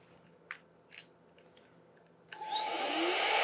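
A cordless electric air duster switches on in vacuum mode for cleaning a PC, its loud, steady high-pitched whir rising abruptly after a few faint clicks and handling noises and holding close and continuous to the end.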